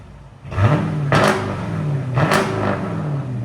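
A 2020 Jeep Grand Cherokee's 5.7-litre HEMI V8 with X-pipe and straight-pipe exhaust, started up and then given two sharp throttle blips that surge and fall back to a loud, rumbling idle, close by.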